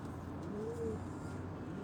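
A pigeon gives a soft, brief coo once, faint and low against steady background noise.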